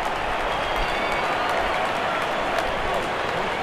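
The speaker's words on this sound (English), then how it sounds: "Crowd on their feet to cheer the moment." A stadium crowd in Real Cricket 22 roars and applauds a six, a loud, steady wash of cheering and clapping that fills the whole moment without a break.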